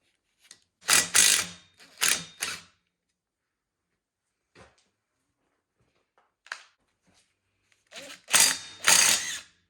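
Allen wrench working bolts on a Ski-Doo Summit 800 snowmobile: close, dry ratcheting clicks in short bursts near the start and end, with a few faint isolated clicks between.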